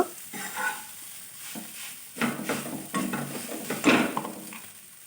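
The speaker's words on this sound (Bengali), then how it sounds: "মিশ্রণটা মিশিয়ে নেব একটু ভাজা ভাজা করে নেব" Soft frying sizzle of potatoes with intermittent scraping and stirring strokes of a utensil in a pan, close up, with a few louder clinks.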